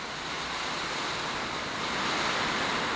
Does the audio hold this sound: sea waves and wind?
yes